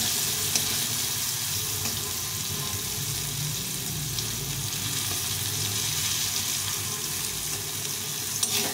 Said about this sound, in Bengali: পটলটাকে ভালো করে ভেজে নিতে হবে।